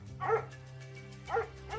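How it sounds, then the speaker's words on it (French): Several dogs bark in a garden outside a villa, a few faint, distant barks coming in separate bursts over a low steady background hum, with no voices. "dans le jardin, ses 3 chiens aboient sans cesse"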